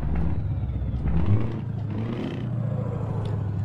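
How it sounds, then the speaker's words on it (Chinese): Scania R520 truck engine idling low in Euro Truck Simulator 2, a deep steady rumble with a slight swell and faint hiss above it. "听听声，新斯堪尼亚这个怠速属实够低啊"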